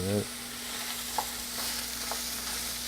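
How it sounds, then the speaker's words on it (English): Sausage frying in a pan for pepperoni macaroni is broken up and stirred. A continuous close sizzle runs throughout, with a steady low hum and a few soft scrapes from the utensil. "Go over here and break up our sausage a little bit more and stir that."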